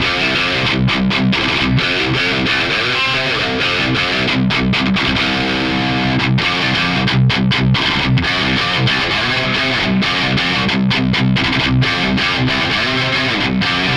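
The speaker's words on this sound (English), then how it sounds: "let's hear it with a little bit of some distortion here, and it's gonna sound nice and tight and funky" A Mayones Duvell Elite electric guitar plays through heavy distortion, a loud, dense run of tight, chugging riffs with sharp palm-muted stops and sustained chords, filling the whole stretch without any voice.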